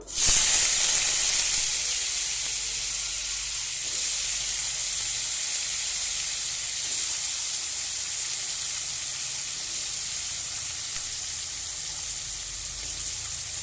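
Washed potatoes drop into hot oil seasoned with a little salt and burst into a loud, hissing sizzle that peaks at once, then settles into a steady, even frying crackle.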